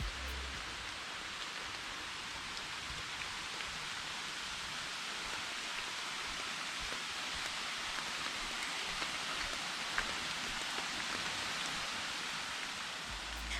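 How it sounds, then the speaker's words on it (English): Falling Waters waterfall in a Florida state park heard from the forest trail, a steady broadband rushing hiss that stays even and unbroken throughout, without voices. "we can hear the waterfall way before we even see it up close"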